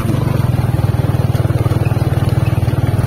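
A motorcycle engine on a rural road heading toward farm fields, a steady close low drone with a rapid pulsing throb throughout, loud and continuous with no talk over it.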